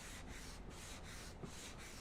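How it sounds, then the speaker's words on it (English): A squeegee pressed over vinyl racing-stripe film on a 2020-or-later Spyder RT, giving soft, faint rubbing strokes that repeat in a steady rhythm about every third of a second, close by and alone. "It's just falling into place as I squeegee it."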